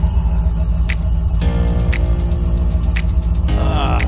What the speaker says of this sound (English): But man, does she ever sound good.